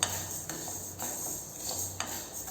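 Urad dal dry-roasting in a pan, stirred with a spoon: soft scraping and light clinks of utensil on metal recur every half second or so, close and fairly quiet, with no voices.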